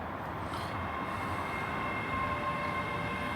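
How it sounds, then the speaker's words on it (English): A ScotRail Class 385 electric multiple unit pulling into Stirling station, a steady loud rumble and whine of the train arriving close by, running continuously with no voices. "Coming in now, it's the 1707 service to Edinburgh Waverley"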